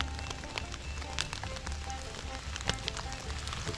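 Rain patters through a river-bottom woods in south central Indiana in spring, a soft, continuous wash dotted with scattered close drips and taps.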